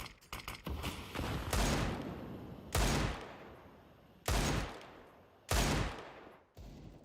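AK rifle fire in a CS:GO match, several separate loud bursts and single shots spaced a second or so apart, each sharp onset trailing off, standing alone without talk.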